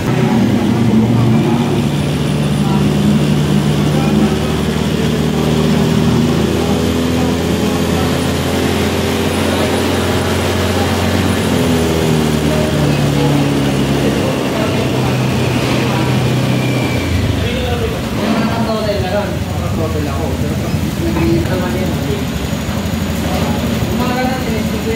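A Honda Beat FI fuel-injected scooter engine idles as it warms up, a steady low hum that continues throughout, with voices talking over it.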